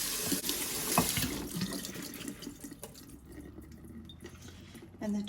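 Tap water runs steadily into a sink as berries are rinsed in a colander, a close, broadband splashing rush that eases and thins toward the end before surging again.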